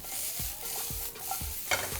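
Prawn bibimbap ingredients cooking down in a pan, a soft sizzle under repeated stirring and scraping strokes with a brief clink near the end, no voices.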